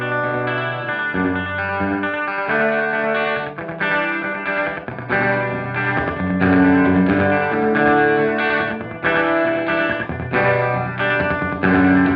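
Electric guitar runs through a Strymon Deco V echo with the lag time knob turned fully up, so fingerpicked-style chords and notes smear into long, trailing repeats; loud and close, with no talking.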